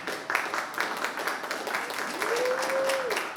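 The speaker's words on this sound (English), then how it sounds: "let's clap it up for Miss Angelina Rosado." An audience at a youth huddle claps for a speaker, with steady moderate applause throughout and a brief tonal whine near the end.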